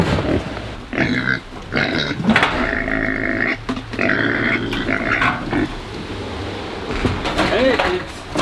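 Pigs grunting repeatedly at close range in a farm pen during feeding time, short rough bursts scattered over a steady background, with a person calling to them now and then.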